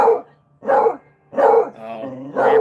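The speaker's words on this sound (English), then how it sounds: "Oh, neighbor brought his dog out." A neighbor's dog barks four times in an even rhythm, loud and fairly close, with short pauses between barks and a drawn-out, growly tone on the third.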